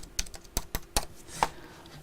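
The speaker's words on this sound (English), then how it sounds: "just get my keyboard" Several separate keystrokes are tapped on a computer keyboard at an uneven pace, sharp, close clicks spaced apart over a quiet room background.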